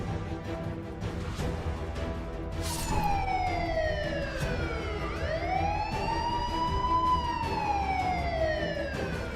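A police siren starts up and wails in Shikohabad, India, rising and falling in long sweeps, fairly distant over a low background rumble.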